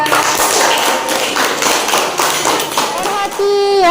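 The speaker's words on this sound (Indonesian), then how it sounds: "Oke, tepuk tangan untuk kelompok 3." A school class claps for one group, a loud run of quick hand claps mixed with children's voices, followed by brief talk at the end.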